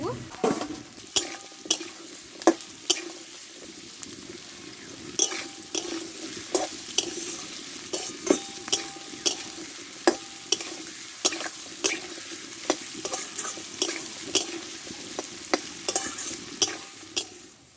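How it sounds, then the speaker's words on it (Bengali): Small diced potatoes and half-fried onions are stir-fried together for Bengali ghugni, a spatula scraping and knocking the pan in regular close clacks over a continuous sizzle. "আলুটা আমি একসঙ্গে কষে নিব"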